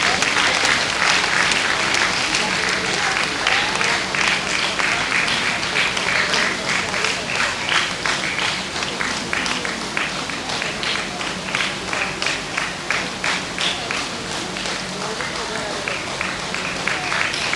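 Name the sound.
audience applause for runner-up team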